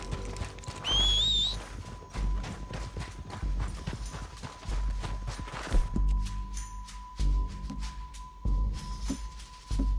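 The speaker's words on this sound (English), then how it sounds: "We need our horses." Horses in Red Dead Redemption 2, hooves clip-clopping in a steady rhythm with a whinny early on, moderately close, over a sustained background tone.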